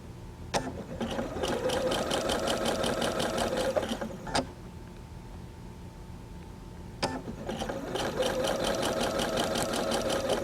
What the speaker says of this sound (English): continue ahead and sew that seam